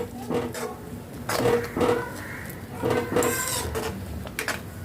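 Spiced vermicelli is mixed with salt in a pan, with a utensil clattering and scraping against the metal in several irregular bursts, fairly close and moderately loud.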